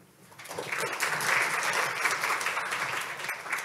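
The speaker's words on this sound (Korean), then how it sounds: "김도원 팀장님께 다시 한번 박수 부탁드리겠습니다" An audience applauds after a presentation at a 2024 briefing on international greenhouse gas reduction projects, steady dense clapping that rises quickly from quiet and holds loud to the end.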